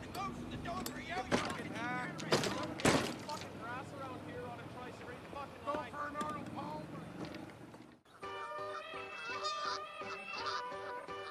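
Canada geese honk loudly and repeatedly in the first half, nasal calls overlapping one another, with people talking over them before the scene cuts to music.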